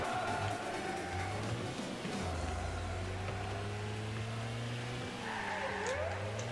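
A car drifting in the video game Rocket League: steady engine drones hold and shift in pitch throughout, with a continuous gliding tone as the car slides, under a constant busy game background.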